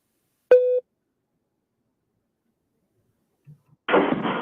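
A single electronic beep from a courtroom trial stream sounds once, short and fairly loud, followed by silence, a faint low blip, and then a burst of broadband noise near the end.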